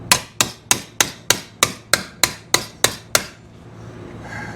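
A dome-faced hammer strikes sheet metal from a 1941 Chevy rat rod door frame held in a vise: eleven sharp, evenly spaced metallic blows, loud and close, then a quiet tail.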